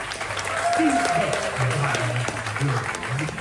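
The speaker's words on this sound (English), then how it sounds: "Everybody, clap!" Applause from a game show audience during a Disney Treasure villains night, steady dense clapping for several seconds with voices and cheers mixed in underneath.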